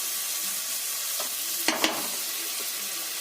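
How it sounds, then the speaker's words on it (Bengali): Turmeric and chili powder spices frying in a pan, a soft steady sizzle with a couple of quick scraping stirs near the middle, fairly quiet and without talk. "দিয়ে একটু নাড়াচাড়া করে ভাজা ভাজা হয়ে যাচ্ছে।"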